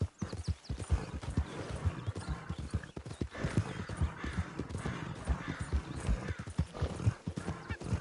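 Horse hooves clip-clop in the video game Red Dead Redemption 2, a close, rhythmic trot of distinct hoof strikes with an occasional snort or whinny, continuing steadily throughout.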